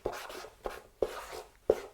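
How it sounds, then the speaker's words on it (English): A marker writes on a cardboard box in four short, distinct scratchy strokes, close and quiet, with pauses between strokes. "Now the last box, I want you to write the word trash."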